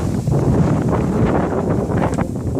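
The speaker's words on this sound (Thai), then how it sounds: "ลมแรงมาก" Strong wind gusting across a rice field during harvest, a loud, continuous rushing roar buffeting the microphone with no voices.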